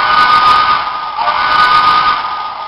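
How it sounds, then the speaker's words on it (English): A model logging locomotive's sound system sounds its new steam whistle in one steady, fairly loud sustained blast lasting almost three seconds, with a hissy, breathy edge and no pauses. "Gave it new whistle"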